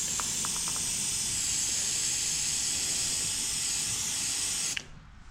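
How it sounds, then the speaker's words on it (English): Aerosol can of brake cleaner sprays steadily onto a mechanical part, a continuous close hiss lasting several seconds before cutting off abruptly, with a few faint clicks early on. "the quickest way to make sure there's no oil on something is to use a product such as brake cleaner"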